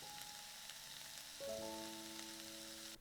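Sweet peppers sautéing in oil give a steady, quiet sizzle with a soft crackling hiss, while faint background music plays underneath.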